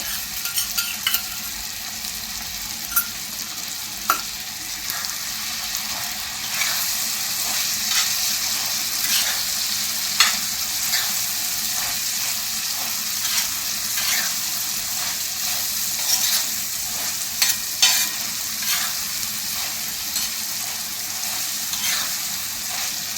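Butter sizzles on a hot tawa while Mumbai-style tawa pulao is stirred, a steady close frying hiss lasting over twenty seconds, broken by frequent scraping and clinking strokes of the spoon.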